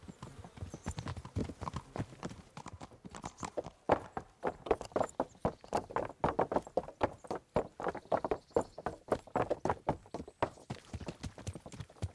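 Horse hooves clip-clop steadily in a medieval video game, Kingdom Come Deliverance, with a quick regular walking rhythm that grows busier midway, moderately close and fairly quiet, with no talk over it.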